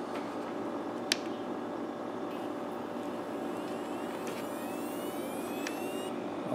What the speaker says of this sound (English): you can hear the hard drive turn on. You can hear it spinning.